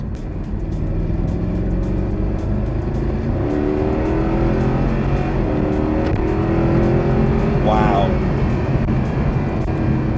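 A Mercedes SLS engine roars close up, its pitch climbing through rising revs, with a sharp rev burst near the end and a steady rumble underneath.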